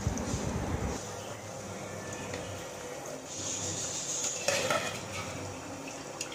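Marinated mutton pieces tipped into about a litre of hot oil for mutton sukka and stirred in the pan, a scrape and clatter at the start followed by a moderate frying hiss with intermittent spoon-on-metal knocks.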